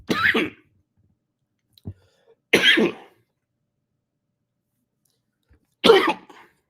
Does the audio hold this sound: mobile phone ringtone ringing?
no